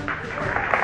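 Audience applause and clapping at a political speech, a brief, dense burst of many hands clapping from a crowd, steady and fairly loud throughout.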